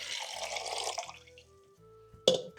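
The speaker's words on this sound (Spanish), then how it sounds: "Ponemos el agua con un poco de sal a calentar" Water with a little salt is poured into a pot to make a homemade brine for empanada dough, a short rushing pour that fades out and ends with a sharp clink of the vessel.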